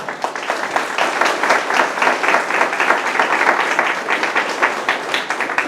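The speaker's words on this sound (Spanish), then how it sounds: "Denle palmas al Señor." A church congregation applauds for the Lord during a Spanish-language sermon on faith, giving steady, dense clapping with rhythmic accents that holds at full strength throughout without pause.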